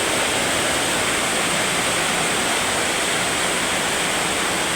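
Heavy rain pours steadily onto a roof during a strong Saturday downpour, a dense, continuous hiss that stays loud and even throughout with no voices.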